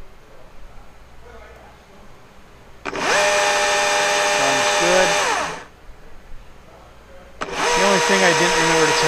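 A Husky 120i battery chainsaw runs during a test. Two loud, high whining bursts rev up sharply, the first lasting about three seconds and the second shorter, with a quiet gap between them.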